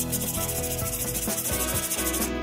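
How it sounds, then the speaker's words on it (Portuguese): Hand sanding a wooden air rifle stock with 80 grit sandpaper to strip thick varnish, a continuous close rasping scrub with quick back-and-forth strokes and no talking. "Estou usando lixa ferro grão 80 de forma a tirar o verniz"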